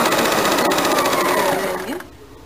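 A sewing machine runs at a steady rapid stitching rhythm while joining a kurti sleeve in a home tailoring setting, then slows and winds down to a stop near the end.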